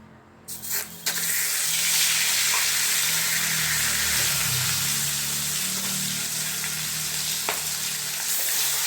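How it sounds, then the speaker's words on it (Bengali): Rohu fish frying in a wok, a couple of sharp clatters at the start, then a strong, continuous close sizzle with scattered spits and no voices. "কড়াইতে আমি তেল দিয়ে দিচ্ছি।"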